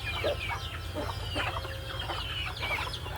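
Chickens cluck and cackle in a rural provincial yard, short busy calls scattered throughout, with a low steady rumble underneath and no talking.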